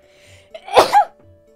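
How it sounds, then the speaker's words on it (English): A single loud, close sneeze: a brief intake of breath and then an abrupt explosive burst, followed by near silence. "I have to sneeze."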